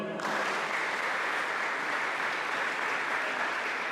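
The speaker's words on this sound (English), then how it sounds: "Let's give a round of applause to the Pohnpei State government." Loud, sustained applause from a large crowd at a basketball tournament awarding ceremony, steady and dense throughout after a brief quiet start.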